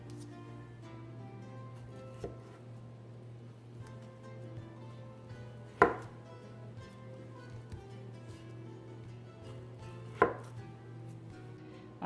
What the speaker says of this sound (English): And then I'll slice them maybe about